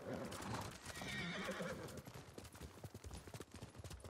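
In the video game Ghost of Tsushima, a horse whinnies loudly at first, then hooves clip-clop in a quick, uneven rhythm close by.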